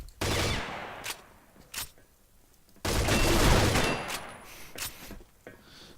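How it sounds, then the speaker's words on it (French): A gun in a video game fires on its own in several loud, close bursts of rapid automatic fire separated by brief pauses, with one long burst in the middle. "Pourquoi mon arme tire tout seul?"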